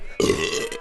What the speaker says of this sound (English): Guys that burp in public.